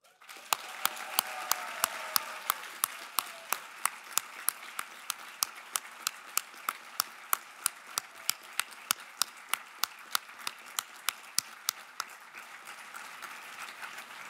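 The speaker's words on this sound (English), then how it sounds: "please join me in saluting with our applause the November 2018 graduates of the United States Naval War College." A large audience at the November 2018 U.S. Naval War College graduation applauds the graduates, with crowd applause at first that settles into a long run of single, regular, sharp claps before thinning out.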